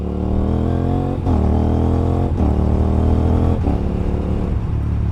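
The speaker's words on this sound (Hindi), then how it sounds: "वापस से देखो क्लचलेस शिफ्टिंग का सीन" Motorcycle engine revving hard under steady throttle, with quick clutchless upshifts that make the pitch drop sharply and then climb again, roughly three shifts in a row, loud and close throughout.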